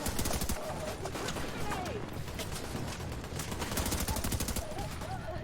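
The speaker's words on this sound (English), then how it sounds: "Yeah, I love shooting their grenade pouches" Rapid automatic gunfire in The Division 2 as enemies' grenade pouches are shot, dense bursts of shots repeating throughout at close range, with faint chirping in the background.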